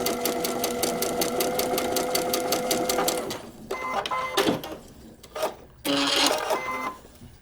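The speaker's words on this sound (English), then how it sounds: "when you're ready to stitch it, Make sure that you're stitching on the extended line that goes into the seam allowance" A sewing machine stitches a paper-pieced quilt block in a fast, steady mechanical run for about three seconds, then stops and restarts in short uneven bursts, close and fairly loud.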